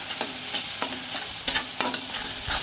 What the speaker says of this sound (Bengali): এইভাবে আমি কষাতে থাকবো।